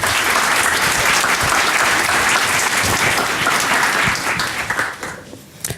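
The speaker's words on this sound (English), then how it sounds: "a good round of applause" A talk audience applauds steadily and loudly for several seconds, the clapping thinning out and fading at the end.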